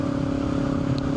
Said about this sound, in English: you just hear the note of the engine so much better